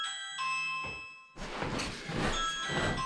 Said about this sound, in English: They just rang the doorbell